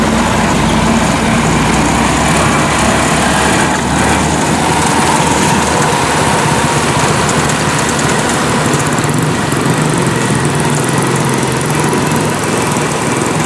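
Kubota DC93 combine harvester travelling along a road, its engine droning loudly and steadily throughout with constant mechanical rumble and no talk.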